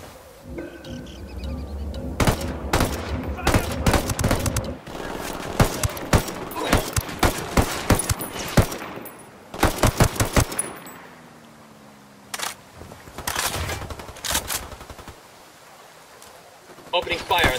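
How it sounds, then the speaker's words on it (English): Gunfire in Ghost Recon Wildlands: sharp, loud shots and bursts crack in irregular clusters close by, with ambient game sound between volleys. "Opening fire on these fuckers"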